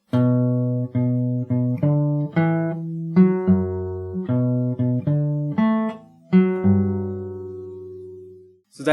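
A song from Cyberpunk 2077 is played slowly on guitar, with distinct plucked notes and short chord phrases ringing clearly and alone, closing on a long sustained note.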